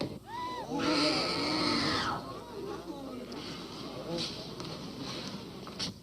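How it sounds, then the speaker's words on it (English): Screaming voices in a 1958 horror film, a high wavering shriek rising near the start and holding loud for about a second, followed by a busy murmur of commotion. "Don't stand there and scream"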